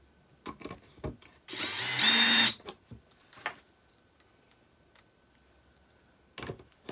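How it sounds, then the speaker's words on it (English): A power screwdriver drives screws into a Farnsworth five-drawer mid-century modern dresser during assembly, one loud whirring burst of about a second amid scattered clicks and handling knocks, with a few sharp taps at the end. "So you get yourself one of these power screwdrivers. It makes it real quick."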